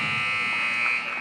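A basketball game buzzer in a high school gym during a boys varsity game blares as one loud, continuous electronic tone for the whole moment, close and dominant over the crowd noise.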